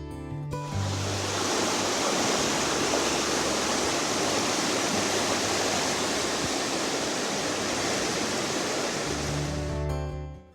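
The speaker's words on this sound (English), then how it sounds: "the more overwhelming the sounds of gushing water became" Loud, steady rush of gushing natural spring water roaring continuously, broadband and unbroken, fading in at the start and cutting off at the end, in the Shawnee or Mark Twain National Forest.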